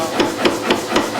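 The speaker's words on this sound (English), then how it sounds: "chiseling a slot in here, which will be an index" Hammer blows striking a steel chisel while cutting an index slot into a metal tool, four sharp evenly spaced metallic strikes, close and loud.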